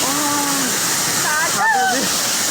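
Rushing floodwater makes a constant broadband roar while a person talks over it close by.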